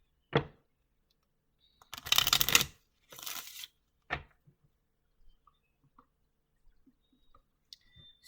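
Lenormand cards handled and drawn from a deck, giving two short papery riffling bursts close by, then scattered faint clicks and rustles in a quiet room with no voices.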